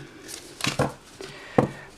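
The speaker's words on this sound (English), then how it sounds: "One more shuffle." A few soft, papery riffling bursts of tarot cards being shuffled, close by, with short pauses between them and no talking.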